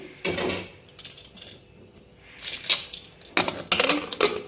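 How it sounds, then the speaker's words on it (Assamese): A metal pressure cooker lid being fitted and closed while making pulao, heard as several sharp metallic clanks and scrapes in uneven bursts, close and fairly loud, with quieter handling noises between them. "এতিয়া মই কুকাৰৰ খপটো মাৰি"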